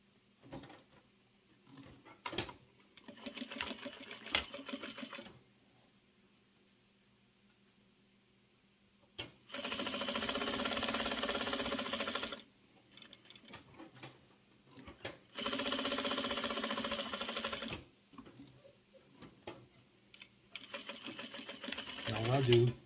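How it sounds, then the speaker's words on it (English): Sewing machine stitching two fabric layers together for a comfort pad, two sustained runs of rapid whirring lasting several seconds each, separated by quieter handling and a voice talking before and after. "You want to just sew a square right around the edge. Sew these two together."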